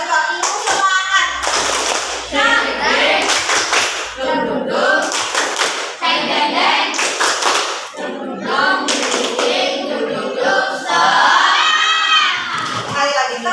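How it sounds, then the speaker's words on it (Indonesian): Sixth-grade pupils in a classroom clap a rhythmic chant routine together, loud bursts of unison claps in patterned groups mixed with excited shouting voices. "Tepuk semangat."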